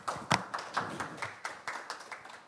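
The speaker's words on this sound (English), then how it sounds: "Please welcome them with a big round of applause." A conference audience at an international forum on air pollution in Seoul gives brief, sparse applause: a scattering of distinct hand claps in an irregular rhythm, fairly close and fading slightly, with no talking.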